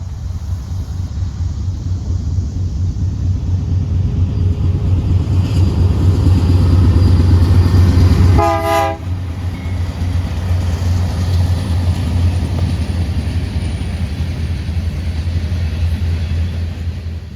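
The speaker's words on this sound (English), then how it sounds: "Next, I get jump scared by the other local pair in Spring Hill, a wide cab SD60M and a Dash 9." BNSF local freight train led by a wide cab SD60M and a Dash 9 locomotive rolling past, a heavy continuous low rumble and engine drone, loud and close, with a brief sharp horn-like tone midway.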